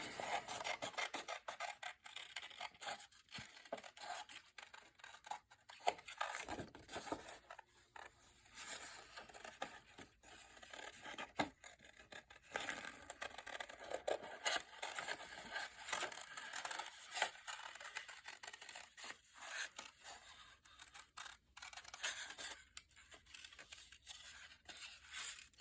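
Quiet, close rasping cuts and rubbing scrapes come in irregular bursts with pauses, like scissors working through paper, with no voices.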